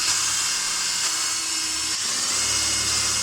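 Power drill driving screws during a 3D printer build, a steady unbroken high whine with a low hum underneath, loud and close, no talk.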